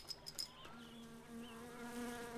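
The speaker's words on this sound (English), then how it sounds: "keep the mosquitoes out" Insect buzzing in the game My Summer Car, a steady droning whine of mosquitoes with faint higher chirps early on, continuous and fairly quiet, with no talking.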